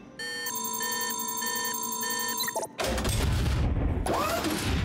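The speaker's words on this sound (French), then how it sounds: "Nous allons utiliser cette machine à copier." A cartoon copying machine whirs and beeps, with steady mechanical tones and repeating electronic bleeps. After a short pause comes a louder burst of clattering and rumbling noise.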